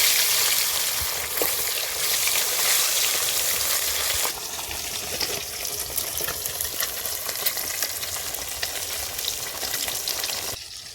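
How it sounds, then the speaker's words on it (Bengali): Rohu fish pieces fry in hot mustard oil, giving a loud, steady crackling sizzle throughout with no voices, the spitting easing slightly partway through. "এদিকে মাছ ভাজা হচ্ছে"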